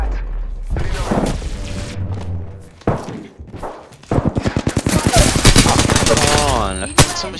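Gunfire in Apex Legends, a burst of shots early on, then a sustained rapid automatic volley of close, loud shots. Game voice lines and announcer-style sounds play alongside it.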